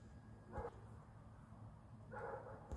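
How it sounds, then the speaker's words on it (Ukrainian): Dogs bark outdoors during a walk, two short barks about two seconds apart, faint and somewhat distant against a low background hum. "Собаки гавкають."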